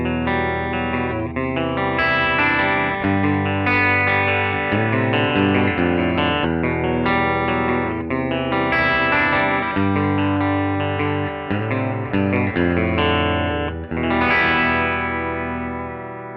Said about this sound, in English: I'm not a huge fan of how the Dimebucker sounds by itself on clean. It's a little thin sounding.